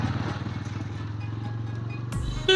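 A motorcycle travels along a road in Sariakandi, its engine a steady, close drone that holds for about two seconds before cutting off abruptly.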